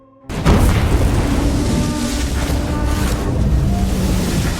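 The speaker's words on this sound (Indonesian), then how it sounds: "pesawat menghantam permukaan laut dengan keras hingga badan pesawat pecah menjadi beberapa bagian" A plane crashes into the sea: a sudden heavy boom gives way to a sustained roaring, crashing wash of water and debris, loud and close, with no voices.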